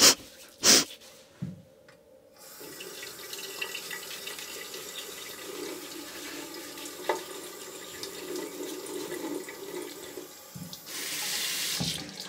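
Tap water runs steadily from a bathroom sink faucet while a face is rinsed after shaving, with a few louder splashes near the start and end over the constant stream; no one speaks.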